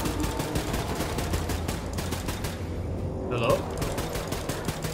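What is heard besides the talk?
gunfire in video game Wolfenstein II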